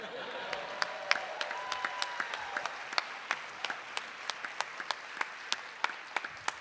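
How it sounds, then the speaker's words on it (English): Applause from a live theater audience at a Valentine's Day comedy storytelling show, with thinning crowd clapping and sharp individual claps standing out as it tapers off, some voices mixed in. "You guys are so generous with your applause."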